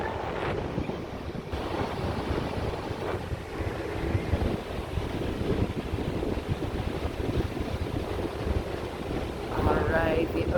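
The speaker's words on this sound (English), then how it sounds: "waves though are pretty loud. It's breaking pretty hard." Rough ocean surf breaking hard on North Myrtle Beach on a windy evening, a continuous heavy roar of crashing waves with gusts buffeting the microphone, loud and close.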